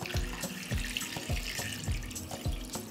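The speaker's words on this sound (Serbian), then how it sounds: "sipat ću vodu u šerpu do visine poklopca" Water is poured into a cooking pot holding glass jars set on a cloth at the bottom, filled up to the height of the jar lids for pasteurizing; a steady splashing pour with regular glugging pulses about twice a second, close and moderately loud, with no talking.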